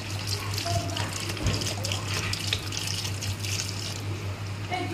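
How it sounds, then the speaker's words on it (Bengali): Water pours into chicken curry in a pan, a continuous splashing, gurgling stream heard up close for several seconds over a low steady hum of background noise. "এইবারে জল দিয়ে দিলাম"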